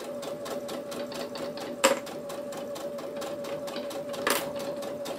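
A sewing machine stitching thick fabric with a slightly lengthened stitch, a steady rapid mechanical whir close by with two brief sharper clunks.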